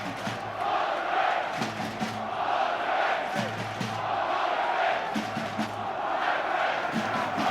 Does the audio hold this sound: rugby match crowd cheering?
yes